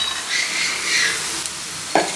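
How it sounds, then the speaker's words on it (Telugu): Onions fry and sizzle in a pan for green chicken, a steady broadband hiss with soft stirring swells and a brief clink of a utensil near the end, close and fairly loud with no talking. "ఉల్లిపాయలు ఇలా మంచి కలర్ వచ్చే వరకు ఫ్రై చేసుకున్నాం కదా"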